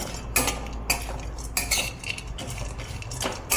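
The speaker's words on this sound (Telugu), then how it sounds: "ఫస్ట్ బాదం పప్పు పీసెస్ వేసుకోండి. ఇది కొంచెం టైం టేకింగ్ ఫ్రై అవ్వడానికి." Almond pieces frying in ghee in a pan for dry fruit laddu, with a spoon scraping and clinking against the metal every half second or so, close and fairly loud over a low steady sizzle.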